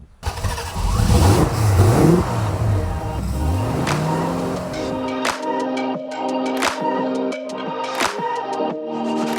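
A 1968 Ford Mustang Sprint B with a 289 V8 and automatic transmission revs and accelerates on a test drive, its rising engine tone loud and close, then settling into a steady cruising drone with shifts.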